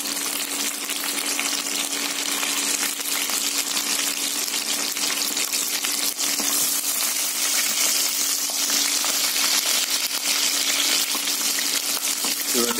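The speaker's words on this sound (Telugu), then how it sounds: "పచ్చిమిరపకాయలు రోటి పచ్చడికి ఎంతవరకు వేగాలో చూడటం కోసం చూపిస్తున్నారండి" Chopped green chillies fry steadily in hot oil in a pan while a traditional gongura roti pachadi is being made. The sizzling is dense and continuous, close and fairly loud, and nobody talks over it.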